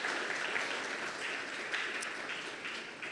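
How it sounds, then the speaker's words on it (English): An audience applauds a Pacific performer at a climate justice forum. The clapping is steady and dense, holding at an even level throughout, with no voices. "Big round of applause for Okalani."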